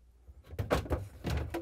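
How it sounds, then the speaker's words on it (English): A Whirlpool refrigerator crisper drawer slides and rolls into place, giving a few quick scraping, rumbling pushes that end in soft bumps, close and moderately loud. "And we can install the crisper drawers. And slide it in,"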